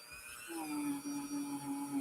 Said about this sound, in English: So we're polishing this up.